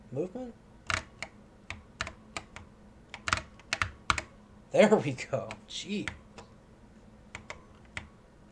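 Keys clack on an Apple IIe computer keyboard in a string of sharp, separate presses, some quick pairs and some spaced out, close and moderately loud, with a man's brief remarks mixed in.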